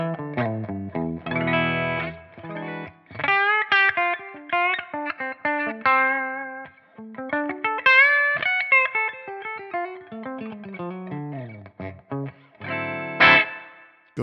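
Clean electric guitar tone from a Vigier GV Wood on its bridge humbucker, played through a Friedman-style amp model: a fluid run of picked single notes and chords, ringing clearly and steadily with no talking.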